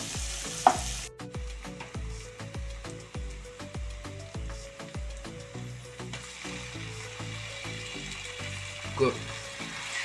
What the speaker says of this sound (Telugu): బ్రౌన్ కలర్ వచ్చేంత వరకు మనం బాగా వేసుకోవాలి